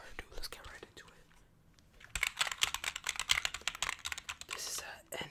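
Fast, aggressive typing on a computer keyboard for ASMR comes in dense bursts of close clicks and clacks after a quieter, whisper-like opening stretch.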